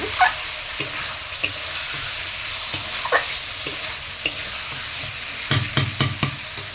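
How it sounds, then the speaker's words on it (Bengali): Hilsa fish sautéing and being stirred in a hot pan over a cooking fire, a steady close sizzle broken by repeated scraping clicks of the spatula, with a busier run of stirring strokes near the end. "এই দেখুন, মাছগুলোকে আমি এইভাবে কষিয়ে নেব।"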